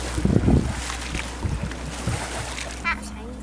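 A child splashes lightly in water near the microphone, with soft intermittent sloshes, wind noise and a faint voice in the background.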